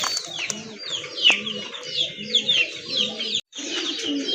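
Large Bombay pigeons cooing for sale, with several overlapping soft coos and rustles mixed with higher chirps and clucks of other birds, steady and close throughout.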